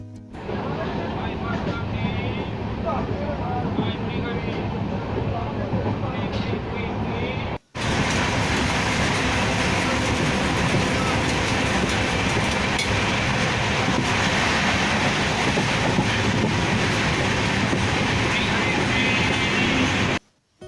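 A passenger train rumbles steadily along the tracks after Contai station on the way to Digha, West Bengal, loud and continuous with a brief drop in the middle, mechanical rattling and faint voices in the background.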